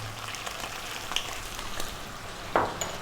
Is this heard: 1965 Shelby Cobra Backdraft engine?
no